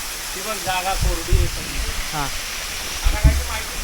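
Steady broadband rush of a waterfall fills the clip, with several people talking over it nearby.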